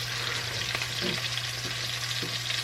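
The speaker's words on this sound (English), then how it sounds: "Just going to put these onions in here so they can saute." Onions sauté in a pan on a stovetop burner for a sausage, potato and green bean stew, giving a steady, close frying hiss with a few faint stirring clicks and no talk.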